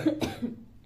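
A single short cough, close and fairly quiet, with a quick second burst, then silence.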